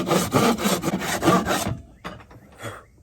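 Hand saw cutting wood for the frame of a DIY acoustic panel in a home studio: steady, loud back-and-forth rasping strokes for about a second and a half, then quieter scattered scrapes and knocks.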